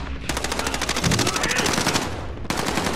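Rapid automatic gunfire rattles in the Call of Duty Warzone Plunder video game, with a long burst of evenly spaced close shots and a brief gap before the firing resumes.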